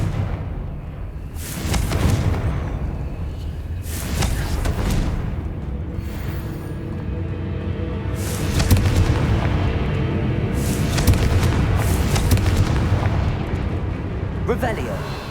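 Blasting spell explosions in Hogwarts Legacy, a string of loud booming blasts and crackling bursts over about fifteen seconds, with game sounds and a voice in between.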